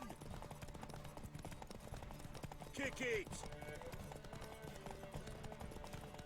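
Horse hooves clip-clop at a gallop during a horse race in The Witcher 3, a steady rapid patter under continuous talk and game music.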